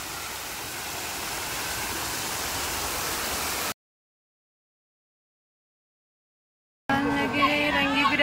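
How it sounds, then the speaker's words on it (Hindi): Water fountains splash steadily in a landscaped city garden, a continuous broadband rush that cuts to silence for a few seconds before returning with busier, brighter noise. "पानी के बस फवारे देख सकते हैं।"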